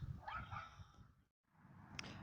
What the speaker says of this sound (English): a little dog barking at me over there